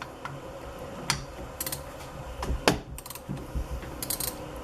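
A 5/8 inch socket ratchets on the bolt of a Harley XLH 1000 front brake caliper, producing quick irregular clicks and ticks close by, with no voices.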